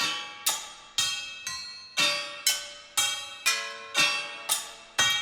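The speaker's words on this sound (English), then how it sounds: "the white noise, that's like the steam releasing, and then all the like the metallic sort of clanging sounds" Repeated metallic clanging hits, about two per second, each with a bright hissing noise tail like escaping steam, electronic and fairly loud.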